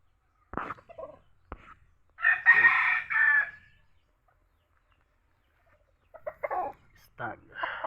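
Pet chickens in a backyard flock, with a close rooster crowing once in a drawn-out call and several short clucks before and after, separated by quiet gaps.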